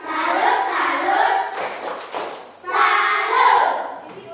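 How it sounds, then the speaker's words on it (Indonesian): A group performs the rhythmic 'tepuk salut' clap, a short burst of patterned hand claps set between stretches of people chanting together in unison. "Coba tepuk salut untuk diri kita hari ini."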